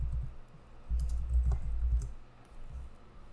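Typing on a computer keyboard while setting up a Deno project in a terminal, with soft irregular key clicks in bursts, fairly close and quiet, no talking.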